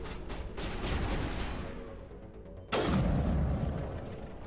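Bomb explosions in the video game Mass Effect Legendary Edition, a rumbling barrage of blasts with a sharp, heavy boom near the end, fairly faint overall.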